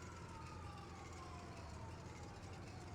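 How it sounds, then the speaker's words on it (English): A faint, distant siren wails with a slowly falling pitch over a steady low rumble of background noise, in the video game NoPixel 4.0. "I keep hearing sirens in the distance,"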